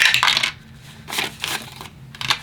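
A die rolled for a board game clatters and tumbles in a few quick bursts, close and fairly loud, with brief pauses between rattles.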